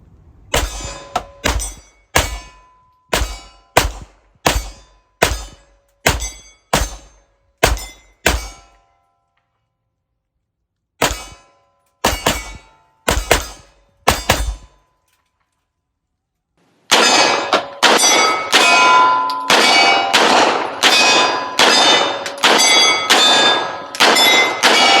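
A Walther PDP 5-inch full-size pistol fires Supervel 147 rounds at steel targets. Sharp shots come in evenly spaced strings, each followed by a ringing clang from the steel. A slower string follows a pause, then a rapid final burst of shots and ringing hits.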